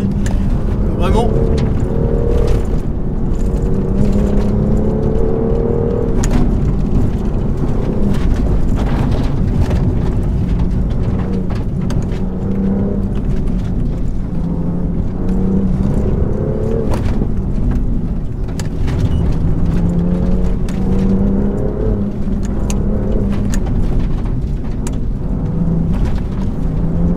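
A BMW M2 CS is driven hard by a world rally champion on narrow roads, with a continuous engine drone and road and wind rumble throughout and people talking over it inside the cabin.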